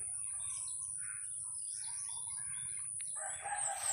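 Many birds calling over a lake on a morning in Alabel, Sarangani Province, waiting for fish to surface; scattered chirps and calls sound at moderate distance over a steady low rumble, with a brighter burst of calls near the end.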